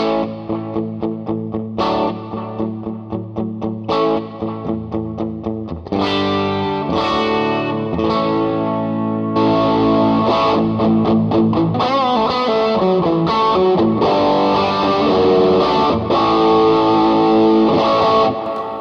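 Electric guitar on the bridge pickup with mid-hump overdrive: several single struck chords ringing out, then a busy sustained riff of thick, driven notes played continuously.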